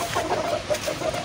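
Hens on a small home farm cluck in a quick run of short, close, fairly loud calls.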